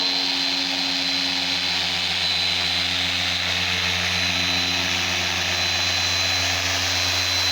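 An electric car buffing polisher runs without pause, a loud, steady motor whine with a constant high-pitched hum, close up and with no talk over it.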